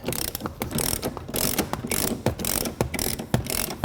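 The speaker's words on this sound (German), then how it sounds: "Und jetzt können wir mit dem 50er Torx, da hinten müssen wir 2 Schrauben aufmachen, da drüben ist noch eine." A ratchet wrench with a 50 Torx bit loosens seat bolts inside a BMW 4 Series F33 convertible, giving close, repeated bursts of sharp clicking separated by brief pauses.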